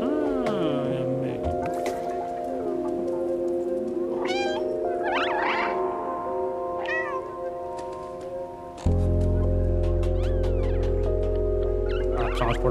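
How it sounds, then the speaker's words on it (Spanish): A cat in the video game Stray meows repeatedly, clear high mewing calls over a steady droning game score, with a louder low rumble joining near the end. "Maulla para atraer a los enemigos."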